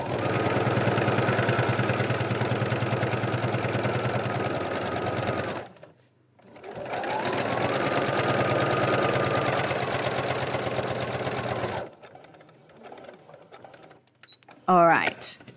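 A sewing machine back stitches a quilted cushion top, whirring steadily in two long runs separated by a brief pause, then stopping; a few small handling sounds follow.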